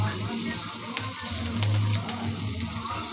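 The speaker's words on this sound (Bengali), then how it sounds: "একদম ধুনিয়া ভালো করে ভাজা হয়ে গেছে" Spices and onion fry in hot oil in a home kitchen pan, giving a steady, soft sizzle that runs throughout with faint stirring noises and a low hum underneath, no talking.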